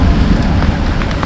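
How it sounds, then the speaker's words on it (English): Heavy rain falling during a thunderstorm in an English town, a loud, steady, dense hiss and patter that fills the whole moment without a break. "here comes the rain"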